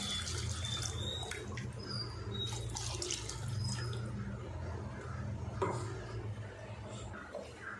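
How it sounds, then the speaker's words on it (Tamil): Water splashes and trickles continuously into a pan of salna, a steady liquid pour with faint clinks, fairly close. "சால்னாக்கு தேவையான அளவுக்கு நம்ம தண்ணி ஆட் பண்ணிக்கலாம்"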